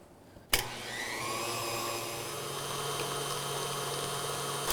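A stand mixer fitted with a paddle switches on abruptly and beats cream cheese buttercream for carrot cupcakes at medium-high speed, a steady, fairly faint motor whine with no talk.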